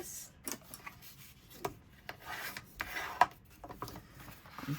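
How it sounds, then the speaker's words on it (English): Folds in a paper card are burnished with short, soft rubbing and scraping strokes that come in uneven bursts. The sound is faint and close, with no talking. "we're going to burnish our folds"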